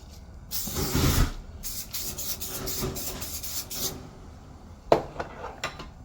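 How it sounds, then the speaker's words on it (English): A steady hiss of oil spray onto lamb forequarter chops on a grill, with rasping, rubbing texture for a few seconds, then a few sharper clinks and scrapes close by. "show a little bit more spray on there"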